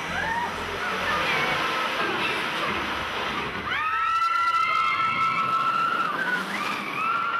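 An amusement park ride car rolls into the launch line of a magnetically propelled coaster, with loud rushing noise followed by rising, sliding tonal whines as the magnetic launch pushes the car forward.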